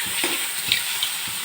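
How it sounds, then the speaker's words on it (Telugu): Mushrooms frying in a pan, a steady soft sizzle with occasional stirring scrapes and small pops, fairly close and without talk. "ఇలా లైట్గా కలర్ మారే వరకు అయితే మనమైతే ఫ్రై చేసుకున్నాము"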